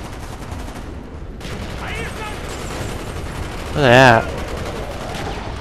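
Gunfire in the video game Call of Duty Black Ops, a short burst of shots amid a continuous noisy battle background, with a voice speaking briefly.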